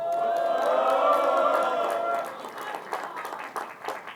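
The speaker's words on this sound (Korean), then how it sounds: "동의하시는 분만 박수로" Applause from an audience at a Democratic Party lawmakers' sit-in protest, a dense wash of clapping with crowd noise that fades after a couple of seconds into scattered claps and murmuring voices.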